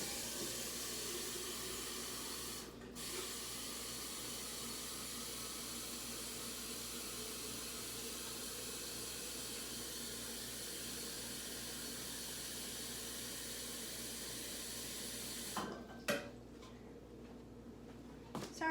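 A tap runs steadily to fill a bucket with cold water, a soft constant rush at low level, broken by a brief gap and then some knocks and clatter near the end.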